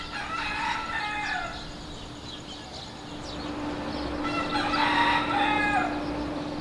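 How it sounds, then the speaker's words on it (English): Roosters crow repeatedly in the morning in Havana, Cuba, a couple of distinct calls rising from a steady outdoor hum, moderately distant and with no talking over them. "I literally woke up to roosters crowing. You can still hear them in the background."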